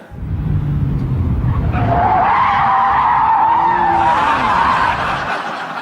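A Porsche 911 Turbo spins out, its tyres skidding and squealing loudly for several seconds over steady engine noise, with no talking.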